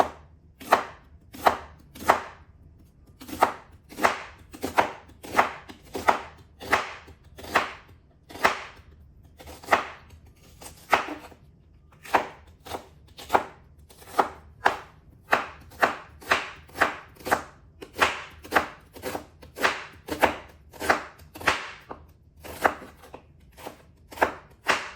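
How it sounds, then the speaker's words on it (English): A knife slices food into thin pieces on a board, giving a steady run of crisp, close chops, dozens of evenly spaced strokes with no talking. "So just making like thin slices here."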